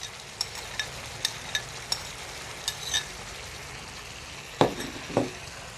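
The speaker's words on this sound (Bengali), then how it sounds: "এখন দিয়ে দেব 1/2 কাপ পেঁয়াজ কুচি ও 1/2 কাপ টমেটো কুচি।" Chopped onion and tomato drop into chicken frying on a tawa, making a steady sizzle broken by regular light metal clinks from stirring and a couple of louder scrapes near the end.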